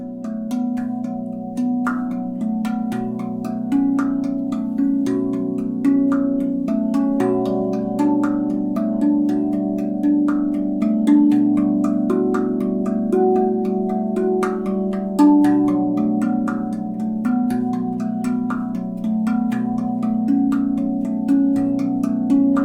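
A RAV Vast 10-note steel tongue drum in B Kurd plays a slow, ringing melody, each struck note blooming and overlapping the last, steady and close with no voices.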